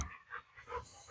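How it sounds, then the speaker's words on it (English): Dog growling and panting in a garden setting during seed sowing, a low rumbling in bursts with a sharper whine at the end, fairly quiet and close. "Apologies for the growling in the background."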